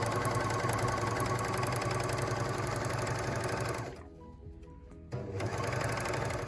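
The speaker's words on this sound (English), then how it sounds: "And that's your gathering with your overlocker." Bernina L450 overlocker stitching ruffles, a steady fast mechanical whir running continuously, stopping briefly for about a second before starting up again, close and alone.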